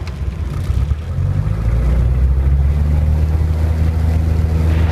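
A Robin DR400 160 hp light aircraft engine roars up to takeoff power on a grass airfield, a loud, close, steady droning rumble that swells after the first second and then holds constant.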